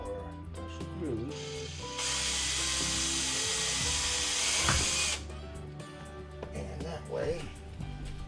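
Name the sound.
drill pre-drilling screw holes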